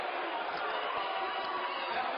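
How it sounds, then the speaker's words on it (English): A basketball arena crowd at a Stanford vs UCLA Pac-12 opener reacts to a referee's call with a steady, dense roar of murmuring and grumbling voices, holding at one level throughout. "Crowd not happy about it"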